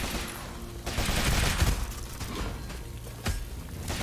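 Rapid-fire gunslinger shots from the video game Rogue Legacy 2, a dense burst of synthetic gunfire crackling steadily with short gaps, close and loud, no talk over it.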